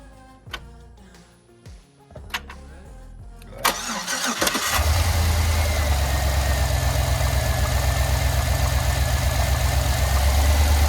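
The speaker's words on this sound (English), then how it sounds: "It's gonna sound a little funky when it starts" A 2007 Chevrolet Suburban with a DOD delete plate cranks in a few uneven bursts, then catches and settles into a loud, steady idle close by.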